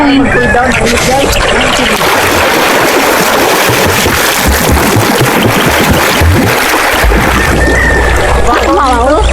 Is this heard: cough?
no